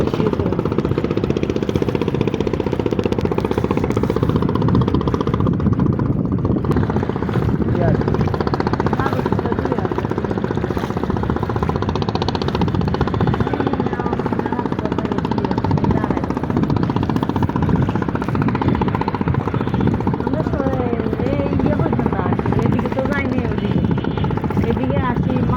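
A motorboat engine drones steadily throughout a paid river crossing, a loud, close, continuous rumble with a knocking throb, while people talk over it.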